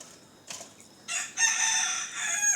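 A white rooster crows loudly and drawn-out, preceded by a couple of short clucks, with faint background noise.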